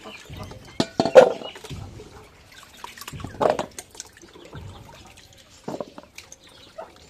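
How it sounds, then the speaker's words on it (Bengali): Water mixed with turmeric is poured over potatoes in a bucket, making several uneven splashes and sloshes that come in bursts, close by and moderately loud. "পানি বেশি, আলুর থেকে পানি বেশি দিচ্ছি"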